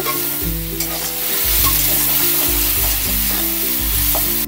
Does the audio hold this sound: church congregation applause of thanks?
no